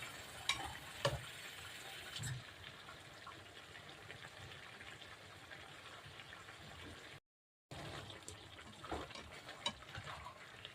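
Igado, an Ilocano pork stew with vinegar, being stirred in a pan: faint scraping and soft sizzling, with a few sharper utensil clinks near the start and again toward the end.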